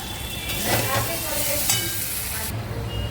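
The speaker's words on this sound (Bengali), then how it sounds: "এবার এটাকে ভালো করে কষিয়ে নেব" Curry masala is stir-fried in a pan, a loud continuous sizzle with scraping stir strokes rising and falling over about three seconds.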